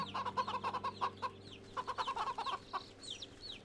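Chickens in the video game Wytchwood clucking in quick rhythmic bursts, several birds close and fairly faint, with short pauses between runs and no talk.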